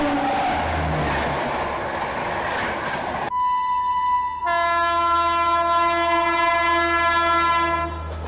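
Swarn Jayanti Express passenger train on a Jharkhand line, with loud, steady rumbling running noise close by, then a long sustained horn blast that holds strongly to the end.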